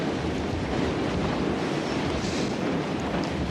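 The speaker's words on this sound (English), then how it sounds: "Hell, it's windy enough we could blow back to Austin." Strong wind blows in a steady, roaring rush with a low rumble, constant and loud throughout with no pauses.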